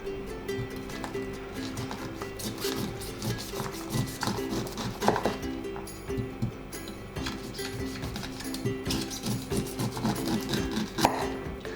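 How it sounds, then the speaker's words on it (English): A knife shaves kernels off a halved, upright corn cob in a kitchen, producing rapid rhythmic scraping and snapping strokes, close and moderately loud, with no talking. "I'm going to shave the kernel off from the core using knife"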